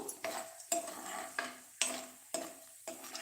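Rice being turned in a kadai for tomato rice, with a spatula scraping across the pan in six or seven regular strokes, each a sharp scrape fading into a soft hiss, quiet and close.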